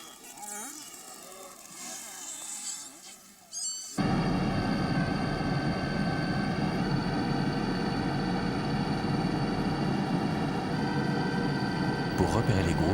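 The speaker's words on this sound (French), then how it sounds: "Pour repérer les groupes, l'hélicoptère permet à Bernd de parcourir de grandes distances." After a quieter, busy opening, a loud helicopter drone starts abruptly and holds steady and unbroken to the end.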